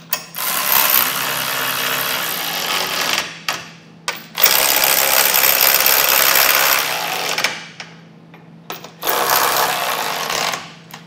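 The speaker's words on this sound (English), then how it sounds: "Now we'll take a 19mm socket and tighten them down." Trailer hitch bolts on a 2022 Honda being tightened with a 19mm socket on a ratchet, three long bursts of rapid close clicking separated by short pauses, with no talking.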